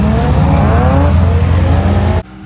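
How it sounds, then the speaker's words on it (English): Curt's NASCAR Chevelle race car engine roars loud and close in a sustained high rev with rising harmonic pitch, cutting off abruptly near the end. "Curt's gonna let me drive the Chevelle."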